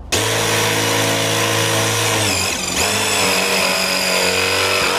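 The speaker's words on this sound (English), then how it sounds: "do you wanna go drill a hole on the other side?" A power drill bores a hole through a house wall while drip irrigation is set up for window boxes, its motor whining steadily and loudly, dipping once briefly before spinning up again.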